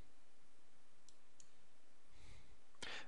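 Computer mouse clicking an OK button during an ODBC setup on a PC: a few faint, sharp clicks spaced irregularly over quiet room tone.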